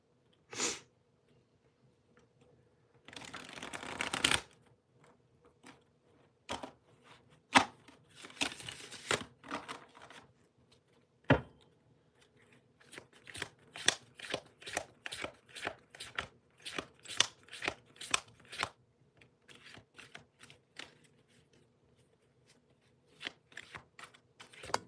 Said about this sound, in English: me do some shuffling.